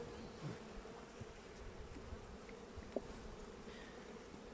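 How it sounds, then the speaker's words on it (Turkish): Soft, continuous buzzing of many honeybees, including drones, around an overflowing hive, a low steady hum with no voices. "Erkek arılar görüyorsun değil mi?"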